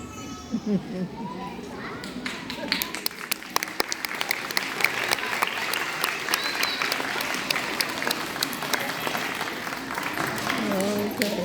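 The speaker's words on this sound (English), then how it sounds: "another round of applause for a job well done" Audience applause for a second-grade class after a reader's theatre performance at school, a long spell of many hands clapping that builds and carries on, with children's voices and chatter mixed in.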